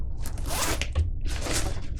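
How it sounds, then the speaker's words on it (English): A plastic-coated metal zipper on a day pack is pulled open in two quick, rasping strokes, close and crisp, with a brief pause between them. "Same kind of zippers,"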